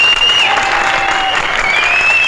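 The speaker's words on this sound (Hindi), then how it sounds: "बजाओ एक बार जोरदार ताली।" A crowd claps loudly and steadily for a stunt performer, a thick, continuous wash of applause with a faint tone running through it.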